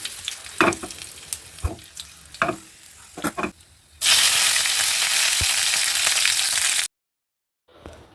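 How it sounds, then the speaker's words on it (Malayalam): Mustard seeds burst in hot oil for a beetroot pachadi tempering, with fenugreek, dried red chillies and curry leaves. Scattered sharp pops come first, then a loud, broad sizzle lasts about three seconds and cuts off to silence. "എണ്ണ നന്നായി ചൂടായി വരുമ്പോൾ കടുകിട്ട് പൊട്ടിക്കാം."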